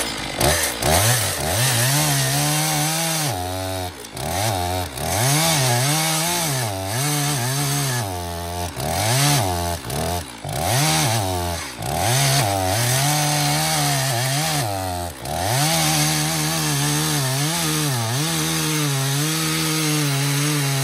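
A chainsaw fitted with a freshly sharpened chain cuts through hickory firewood, its loud engine revving up and bogging down in repeated waves as the chain bites, continuous and close for the whole stretch.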